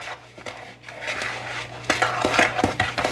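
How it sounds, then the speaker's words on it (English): Brown sugar and cinnamon filling being stirred in a bowl for cinnamon rolls, close scraping and clinking of a utensil against the bowl with irregular strokes, no talk. "we're gonna take the brown sugar, we're gonna mix that in there"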